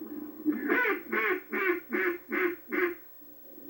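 A duck call blown by hand gives six evenly spaced quacks at close range. They start high and drop to a raspy tone. Nobody talks over them.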